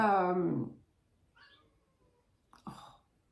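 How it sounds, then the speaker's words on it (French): A cat meows behind a screen door, two short cries separated by a pause, the second louder and nearer, following a stretch of speech at the start. "elle était en train de miauler derrière la moustiquaire"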